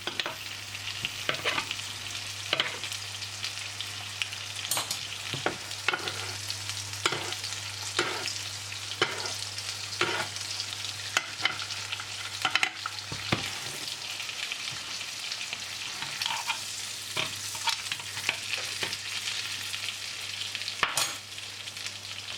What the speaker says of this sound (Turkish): çevirerek etimizi e, güzel bir renk alana kadar kızartıyoruz